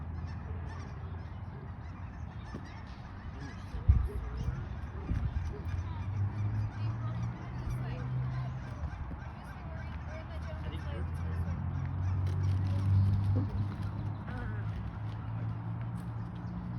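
A large flock of ducks keeps up a dense chorus of honking calls outdoors, with a sharp knock near the start and the calling swelling louder toward the end.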